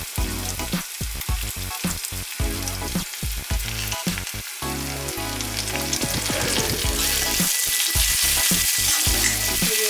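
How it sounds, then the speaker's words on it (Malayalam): Dried chillies and curry leaves frying in hot oil for a Safarjal (quince) pickle, a steady loud sizzle with bursts of crackling and occasional stirring scrapes, growing denser and louder toward the end. "അപ്പോൾ മുളക് ഒരുമാതിരി ആകുമ്പോഴത്തേക്കിനും കറിവേപ്പിലയും കൂടെ ഇട്ട് കൊടുക്കാം."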